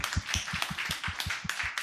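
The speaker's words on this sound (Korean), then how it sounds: "나오실 때 우리 뜨거운 박수로 환영하겠습니다" A church youth-group audience claps to welcome a speaker to the front, a steady rhythmic round of hand claps at an even brisk pace, fairly close and filling the room, with no talking over it.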